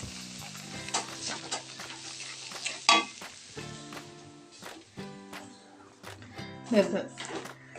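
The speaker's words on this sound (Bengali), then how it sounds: "এটাকে নেড়ে আস্তে আস্তে করে নেড়ে দেবো।" Rice flour is slowly stirred in a pan with a spatula, scraping and clinking against the metal in uneven strokes over a soft sizzle, with someone speaking between the stirs.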